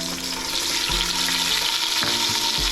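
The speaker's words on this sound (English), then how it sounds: "now we will fry the fish heads in the oil once it's hot" Fish heads fry in hot oil for Bengali muri ghonto, giving a loud, close, continuous sputtering hiss with low thumps of stirring or shifting in the pan partway through.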